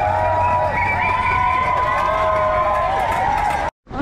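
A dense crowd lines the London Marathon course near the halfway bridge, cheering and shouting loudly and continuously with high, wavering voices, then cuts off abruptly near the end.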